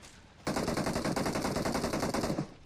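Rapid automatic gunfire from a rooftop in PUBG Mobile, a sustained dense burst of loud shots lasting about two seconds before cutting off.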